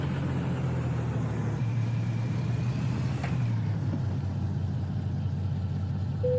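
Simulated semi truck engine from American Truck Simulator idling steadily in a low rumble, loud and continuous, with a slight drop in pitch partway through as the truck is brought to a stop.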